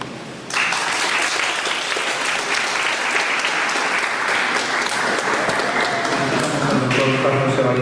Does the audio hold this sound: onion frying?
no